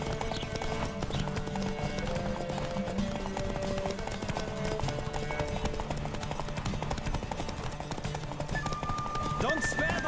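Steady rapid hoofbeats of a galloping horse in The Witcher 3: Wild Hunt drum on continuously, with background music and occasional speech over the top.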